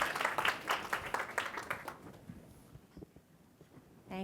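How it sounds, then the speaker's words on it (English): Audience at a product marketing summit in Sydney claps for speaker Courtney, a brief round of applause that thins out and fades to quiet after about two seconds. "So round of applause for Courtney."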